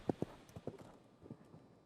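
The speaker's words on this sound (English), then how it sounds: "Here comes the gallop to the end." Horse galloping in an indoor show jumping arena, its hooves thudding in an irregular quick rhythm, fairly faint and distant against a soft arena hum.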